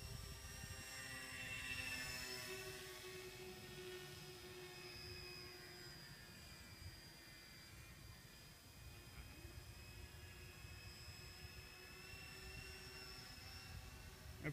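A remote-control VTOL aircraft on a gentle pass, giving a continuous whirring drone of motors and props with shifting whining tones that swell and ease slightly as it moves, moderately distant, with no voices.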